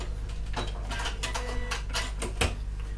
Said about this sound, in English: I'm just going to reverse my stitch at the end.